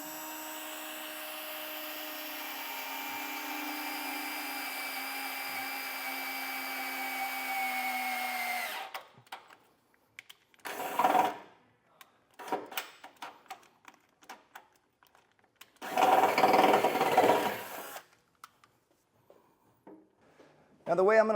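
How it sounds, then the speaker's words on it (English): A power drill with a bit boring holes in a 2023 vehicle's steel frame whines steadily for several seconds, then short separate bursts of drilling with quiet gaps between them, close by. "I'll go ahead and drill out the holes in the frame."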